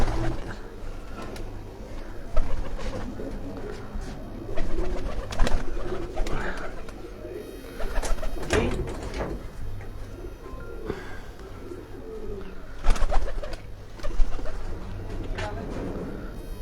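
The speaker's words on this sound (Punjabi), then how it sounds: "ਹੁਣ ਇਜਤਮਾਹੀ ਕਬੂਤਰਾਂ ਦਾ ਤੁਹਾਨੂੰ ਉਹਨਾਂ ਕਬੂਤਰਾਂ ਦਾ ਸ਼ੌਕ ਕਰਾ ਰਹੇ ਹਾਂ ਜੀ" A flock of pigeons kept by a fancier in Havelian coos in repeated low, throaty calls close by, some rising in loudness, while someone talks over them.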